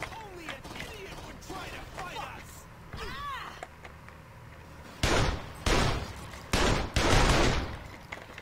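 Gunfire from the video game Saints Row 2 comes as several sharp, loud bursts in the second half. Game sounds and voices fill the quieter stretch before them.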